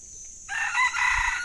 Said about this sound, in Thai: มีไก่ร้องด้วยครับผม